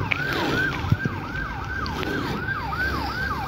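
Fire service siren arriving at a burning car, a wailing up-and-down siren cycling steadily at moderate distance, with faint background street noise and no talk.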